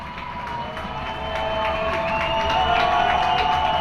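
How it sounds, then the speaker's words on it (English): A football stadium crowd during overtime at a varsity game against West Bloomfield keeps up a steady roar that grows gradually louder, with no one speaking clearly over it. "This crowd making noise."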